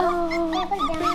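A new puppy whimpers and whines continuously at close range, high wavering cries rising and falling in pitch, with a brief thump partway through and no talking.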